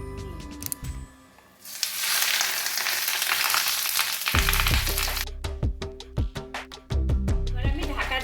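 Ridge gourd wrapped in banana leaf goes into a little hot oil in a frying pan, giving a sudden burst of crackling sizzle that settles into a steady fry, with clinks and taps of utensils.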